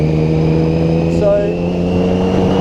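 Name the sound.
Triumph Street Triple motorcycle engine revving during wheelie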